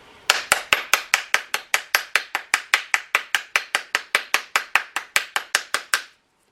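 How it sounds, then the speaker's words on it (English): Someone taps the plunger and plate of a 3D shamrock bath bomb mold, making about two dozen even, sharp knocks in a fast steady rhythm, close and crisp, which then stop abruptly. "Give it some gentle taps on the top plunger. Turn it over and give some taps on the bottom plate."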